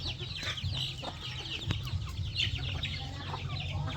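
Native chickens and chicks cluck continuously on a rural farm, a busy overlapping chorus of clucks and peeps that stays at a moderate level throughout.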